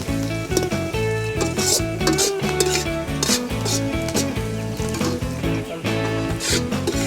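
Onions frying in a pan until golden brown for Andhra-style green chilli chicken, with steady sizzling and the scrape of stirring against the pan over music, no talking.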